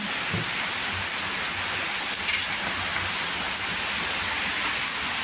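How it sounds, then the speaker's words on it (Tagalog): Heavy rain pours down steadily, a dense constant hiss with no pauses and no voices. "Malakas po ang ulan."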